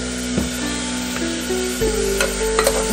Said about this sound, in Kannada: ಸ್ವಲ್ಪ ಬೇಲಿ ಕಂದು ಬಣ್ಣ ಬರುವ ತನಕ ಸ್ವಲ್ಪ ಫ್ರೈ ಮಾಡಿ